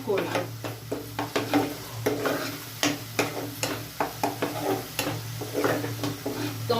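Onion-garlic masala is stir-fried for malai prawn curry, with a steady close sizzle under repeated scraping strokes of a spatula against the pan at a loose, regular rhythm.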